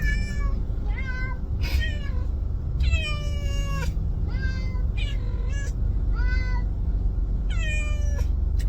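Two cats shut in carriers during a car ride to the vet meow loudly and repeatedly, long drawn-out wails overlapping one another above the low rumble of the moving car.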